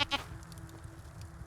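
Goats bleat in the video game I Am Jesus Christ, with two short, loud bleats at the start followed by a quieter stretch of game ambience and a steady tone.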